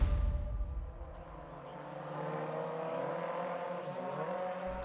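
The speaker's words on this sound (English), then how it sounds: "the Yarises and the Corollas all mixed up for the second pack of cars as they make their way out now onto the famous Grand Prix circuit" Toyota GR86, Yaris and Corolla race cars roll out onto the Kyalami Grand Prix circuit in a pack, engines droning and revving steadily with a loud, continuous mechanical whir.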